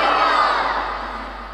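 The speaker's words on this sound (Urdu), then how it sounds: "ایک باری بولو سبحان اللہ" A large crowd at a religious sermon gathering chants Subhan Allah in unison in reply to the preacher, a loud sustained roar of many voices that swells and then tapers off slightly.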